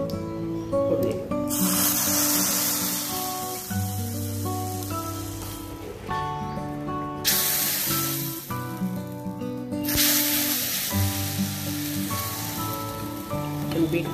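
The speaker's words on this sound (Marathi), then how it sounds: "आणि आता आपण याला याची फोडणी देऊ." A tomato soup tempering with curry leaves sizzles in hot oil as a steady hiss, partly masked by louder background music throughout.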